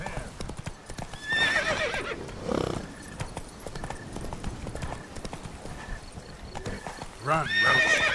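Roach, Geralt's horse in The Witcher 3, gallops with brisk, steady hoofbeats, and loud neighs and whinnies break in near the start and again at the end.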